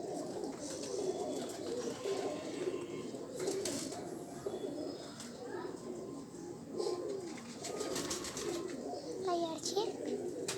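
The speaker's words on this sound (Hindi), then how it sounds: "ये देखें ये एक और घर वाला कबूतर आया है मियाँ साहब के।" Pigeons in a Faisalabad pigeon loft coo continuously in a soft, layered murmur, with occasional chirps and brief wing flutters close by, while someone talks intermittently over the birds.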